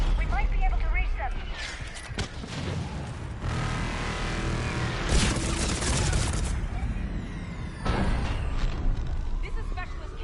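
Sustained enemy gunfire fills a firefight in the video game Mass Effect 3, with bursts of rapid shots and heavy impacts swelling and fading over a dense battlefield din, and voices talking over the action.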